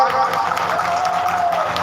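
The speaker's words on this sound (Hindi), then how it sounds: "जोरदार तालियों से का स्वागत" A crowd claps steadily to welcome local residents at a live Shrimad Bhagwat Katha gathering in Jhitkiya, Bhagalpur, a dense continuous wash of hands at moderate level with a voice faintly audible through it.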